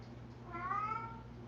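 A house cat gives one clear, drawn-out meow at close range over a faint room hum, with no talking.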